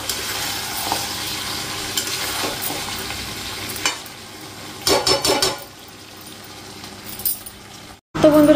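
Mutton and potatoes cook in a pot over a stove, with a steady low bubbling and sizzle broken by scraping stirs and metal clinks, ending in a brief sharp clatter.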